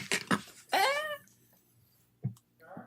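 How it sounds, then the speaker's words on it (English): A video game character in Assassin's Creed II dying: a couple of short grunts and a strained, falling groan, followed by quieter clipped vocal noises. "that's the sound he makes when he dies"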